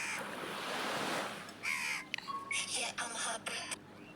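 A crow caws several times in a ragged series, fairly close, over a soft background of surf and breeze at JBR beach.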